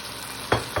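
Onions sizzle in a hot pan, with two quick scraping stirs near the end of a very short moment.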